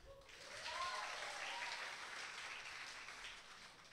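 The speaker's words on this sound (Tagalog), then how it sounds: "Pumalakpak po dito yung matatalino." A church congregation applauding together during a sermon, a steady wash of clapping held at an even level throughout, faint and somewhat distant.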